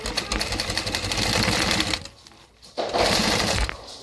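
A sewing machine runs close up, stitching a fabric seam on a Hullabaloo Hobo bag made from a KM Designs pattern. The rapid, steady needle chatter pauses briefly, then starts again, with no voices.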